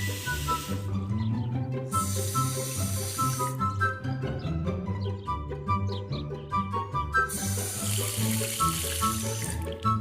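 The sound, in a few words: water running from taps and shower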